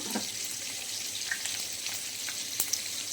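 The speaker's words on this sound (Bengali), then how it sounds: "পাঁচফোড়ন আর তেজপাতা ফোড়নে দিলাম।" Panch phoron spices and bay leaf crackle in hot frying oil, a continuous soft sizzle with occasional tiny pops, fairly quiet and without talk.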